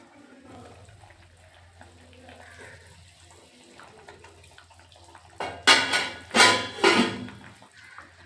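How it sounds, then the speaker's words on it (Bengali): Broth poured into a pot of simmering potatoes, then covered: a quiet stretch of faint kitchen clatter followed by three loud, close splashing bursts of liquid near the end. "আমি আর একটু ঝোল দিয়ে দেব, দিয়ে ঢেকে রেখে দেবো।"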